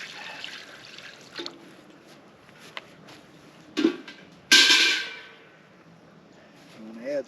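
Water is poured into a pot of turnip greens being cooked outdoors, a single brief splashing pour midway that fades out, with quieter drips and small clinks before and after.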